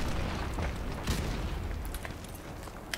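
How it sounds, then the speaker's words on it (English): Enemy airstrike explosions in a Call of Duty Modern Warfare Remastered match, a rumbling spread of heavy booms and blasts, fairly faint and distant, rolling continuously with scattered sharper pops. "Whoa, is that an enemy airstrike?"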